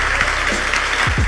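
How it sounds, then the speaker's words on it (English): Steady audience applause at a motivational speaking event, a dense, even wash of clapping that fills the whole moment with no talking over it. "So give a big applause to Peter Warner."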